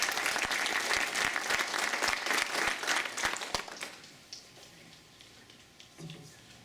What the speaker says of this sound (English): Can you get a big round of applause?